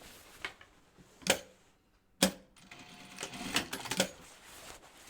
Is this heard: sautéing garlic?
no